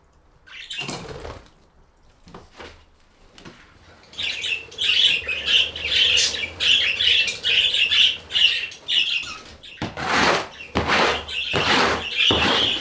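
A flock of budgies in an indoor aviary chirps and squawks in quick bursts, with a busy chatter building midway and a few sharp knocks and rattles breaking in near the end.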